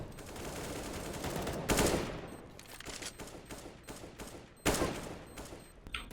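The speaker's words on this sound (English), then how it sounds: "he's taking some shots over there" Gunfire in Counter-Strike, a pro match: sustained rapid bursts of rifle shots with two sharper, louder volleys standing out, heard alone without speech.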